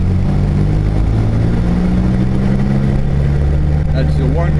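Steady low road and engine rumble from a car being driven, continuous throughout at moderate level, with a faint voice or sound rising near the end.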